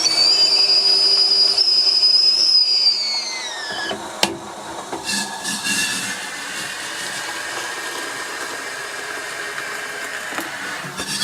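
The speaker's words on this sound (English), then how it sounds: "We've got the kettle on." An electric kettle heats water for tea inside a motorhome, a steady rushing hiss with a high whine that drops in pitch partway through, then a rumbling boil carries on close by.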